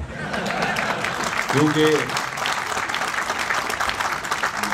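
Press club members in Peshawar applaud in a steady, dense wash of clapping that continues throughout, while someone speaks briefly over it.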